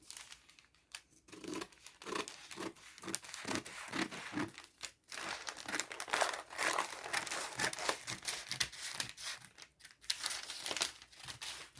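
Scissors cutting out fabric for a puff sleeve, a close run of crinkling, snipping and rustling with repeated short cuts and pauses, no talk.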